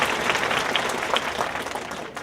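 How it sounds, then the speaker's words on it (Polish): Sustained applause from about 3000 spectators filling the stands at an outdoor tennis final in Szczecin, a dense, steady wash of clapping throughout that fades slightly toward the end. "Przy rzęsistych oklaskach 3000 ludzi zgromadzonych na pełnych trybunach w Szczecinie"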